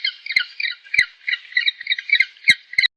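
A penguin gives a harsh, raspy squawking call, a continuous braying stream of nasal honks with a few sharp clicks, loud and close for about three seconds before cutting off.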